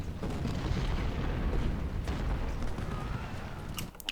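Cannon artillery fire in the Civil War strategy game Ultimate General at Malvern Hill, a dense continuous rumble of booming shots rolling one into the next, loud and heavy throughout with no talking.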